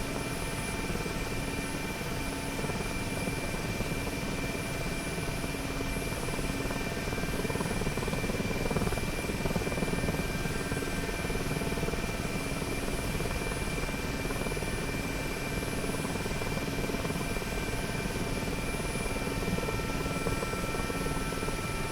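Mi-8MTV2 helicopter in the DCS flight simulator, its engine and main rotor giving a loud, steady turbine whine and dense rotor drone that holds unchanged throughout, with no talking.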